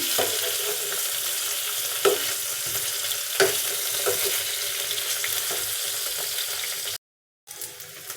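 Paneer sizzles steadily in a hot pan for kadai paneer, with a loud, continuous frying hiss and a few soft clicks as the pieces are turned, then a brief cut to silence near the end.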